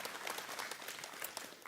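Faint, steady applause from a congregation at a Vision Sunday 2022 gathering: many hands clapping at once in a soft, continuous patter heard from a distance.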